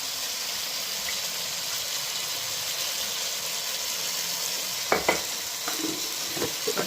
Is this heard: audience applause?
no